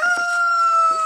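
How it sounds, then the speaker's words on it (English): A rooster crows in one sustained, drawn-out call, clear and fairly close, with faint clucking around it. "Hear the roosters?"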